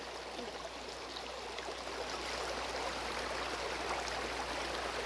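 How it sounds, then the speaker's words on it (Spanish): Water in the Rosario river rushes along in a steady, broad wash of sound that swells slightly partway through, with no voices heard over the flow. "Aquí está toda el agua del río."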